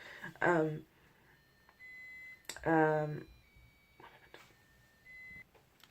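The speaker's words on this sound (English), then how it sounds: "I had an alarm go off" A voice speaks in short bursts while a thin electronic alarm beeps faintly in the background, a couple of separate tones spaced apart.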